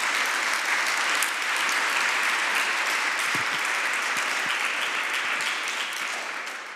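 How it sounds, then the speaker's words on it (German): Audience at an academic lecture event giving steady, full applause that holds evenly and tapers slightly at the end. "ich glaube, Sie haben sich einen großen Applaus verdient auch."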